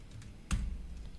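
Computer keyboard typing while tax reform contributions are entered, with a few light taps followed by one loud, close keystroke and a brief thump, then quiet background.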